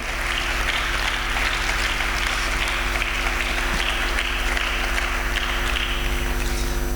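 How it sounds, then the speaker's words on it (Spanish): Church congregation applauding during a sermon, a broad steady wash of clapping that holds at an even level for several seconds with a constant low hum underneath. "Dale un aplauso fuerte al Rey de Reyes."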